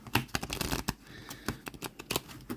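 A stiff vintage tarot deck is shuffled by hand, giving close, uneven bursts of crisp card slaps and scraping rustles.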